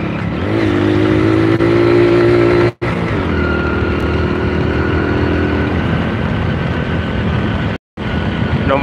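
A Honda Win motorcycle engine hums steadily and loudly while riding, a continuous drone with rising and falling pitch, broken by two brief dropouts.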